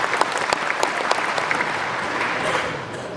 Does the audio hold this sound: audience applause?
yes